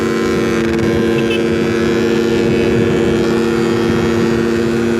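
A Beta RR motorcycle with a harsh-sounding engine, its steady droning roar held loud and unbroken with wind noise, no talking over it.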